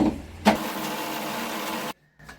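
Electric mixer grinder whirring steadily as it grinds sugar for a semiya rava kesari, a brief loud start then a sustained buzzing run of under two seconds that cuts off abruptly, followed by a short faint tail.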